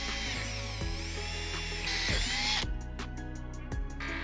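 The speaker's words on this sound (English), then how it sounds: "At all your marks, drill 3/8 inch holes through the door." A power drill whines continuously, its pitch dipping as it bites through a wooden door making 3/8-inch holes, followed by a few short bursts and clicks.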